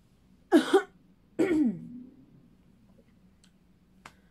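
Two close, throaty coughs in quick succession, followed by quiet with a couple of faint clicks.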